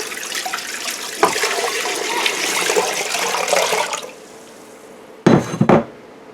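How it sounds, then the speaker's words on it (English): Water pours steadily into a pressure canner holding pumpkin for preserving, a continuous splashing rush for about four seconds, then a pause before a brief louder splash and clatter near the end. "we're going to add 8 cups of water."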